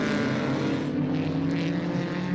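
Race car in a Group C and Group A event at Winton, back out on track, a steady distant engine drone holding the same note for a couple of seconds without any spoken voice.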